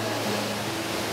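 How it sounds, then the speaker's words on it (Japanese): Steady, loud roar of the Ryuo Gongen waterfall in the Sakuma mountains, with water pouring down into the pool below as a dense, unbroken rushing wash heard up close and alone. "ゴーっていう音もすごいなんか体の中に自然と入ってくる感じがして"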